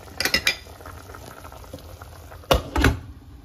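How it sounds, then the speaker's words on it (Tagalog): A pot of Filipino pork stew (nilagang baboy) bubbles on the stove with a soft, steady simmer, broken by a couple of sharp clinks of a utensil or lid against the pot. "Kumukulo."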